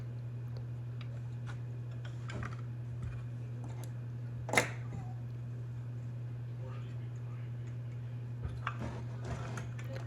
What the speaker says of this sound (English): I'm removing the 4 bolts that hold the intake and the carb onto the cylinder.